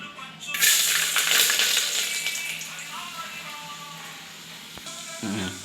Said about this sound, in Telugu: ఆయిల్ కొద్దిగా వేడి అయ్యాక ఎల్లిపావులు వేసుకోవాలి